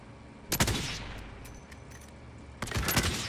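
Sniper fire in a squad battle-royale shooter match: two loud bursts of gunfire, one near the start and another toward the end, separated by a lull of lower game noise.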